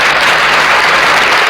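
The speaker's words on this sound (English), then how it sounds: "Round of applause." A short, loud burst of clapping that sounds like a crowd applauding, steady and close without talk.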